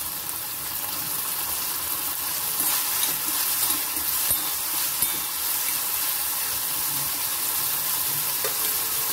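Chilli and cumin fry in a hot pan for a Marathi-style green pea chutney, giving a steady close hiss with faint stirring scrapes throughout, no voices.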